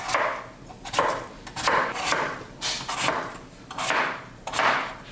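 Washed potatoes are cut into quarters with a knife for Japanese curry, a series of close, crisp chops and slices in an irregular rhythm, with no voices.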